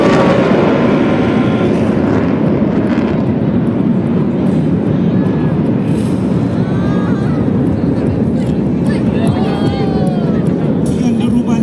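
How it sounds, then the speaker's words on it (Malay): Fighter aircraft roar overhead during a flypast at the 2024 Malaysian National Day parade and air show, a loud, sustained engine rumble over crowd noise, with a public-address announcer talking through it. "Dengan deruban enjin pesawat berjuang yang menunjukkan itu tadi"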